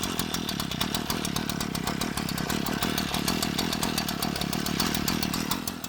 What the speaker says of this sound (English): I'm now going to go jump back on the strimmer and start working our way all round the side of the house